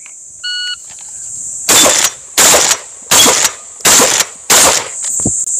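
Five loud, close shotgun blasts from an open division shotgun at a practical shooting range come in an even, rapid rhythm, each about 0.7 seconds apart. A short timer beep is heard just before them and a steady hum sits underneath.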